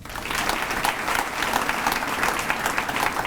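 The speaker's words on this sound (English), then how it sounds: "Give them a round of applause." An audience at a leadership lecture bursts into steady applause for sponsors, a full, continuous patter of many hands clapping throughout the short stretch, with no talking over it.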